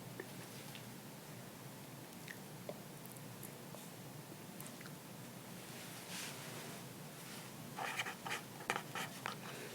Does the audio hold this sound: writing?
yes